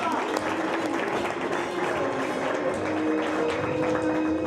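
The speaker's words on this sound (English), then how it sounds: "Miss Leigh Smythe, clap your hands" Audience applause at a contest presenting handmade outfits, dense and steady clapping from a crowd throughout, loud and continuous with no break.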